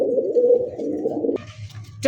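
A pigeon gives a single close, loud low coo lasting over a second, followed by a softer rustle.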